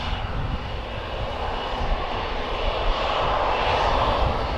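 A Boeing Dreamliner airliner at Birmingham Airport roars with a steady, loud jet engine drone that holds evenly throughout, with no voices over it.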